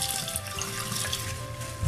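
A calcium test vial being rinsed with water: a steady close running-water wash with a little splashing, constant and unbroken for under two seconds.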